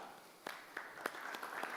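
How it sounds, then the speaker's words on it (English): A quiet, polite golf clap from an audience at a sales talk: a handful of soft, scattered claps, faint and distant over low room noise. "I want to hear a nice, warm golf clap."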